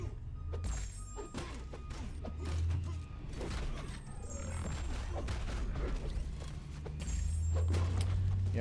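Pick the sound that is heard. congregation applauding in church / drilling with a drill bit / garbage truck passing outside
garbage truck passing outside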